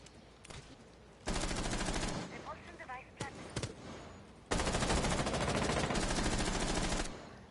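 Rapid automatic gunfire from an esports match on the Inferno map, loud dense bursts in two long sustained volleys separated by sparse single shots, with no talk over it.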